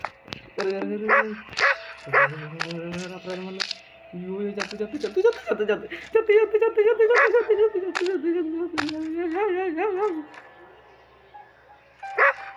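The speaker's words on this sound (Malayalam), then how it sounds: "അവിടെ ഇവിടെ നിന്ന് നോക്കി കുരയ്ക്കാതെ എൻ്റെ പട്ടി" A dog in the horror video game Endless Nightmare barks and yelps repeatedly in an uneven rhythm, with whining tones between the barks and a voice talking over it.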